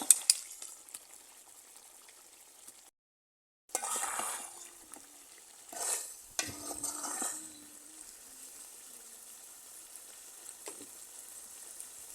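Chicken skin bhuna is stirred in a pan near the end of cooking, with a steady soft sizzle and a few louder scraping bursts of the spoon, broken by one brief pause.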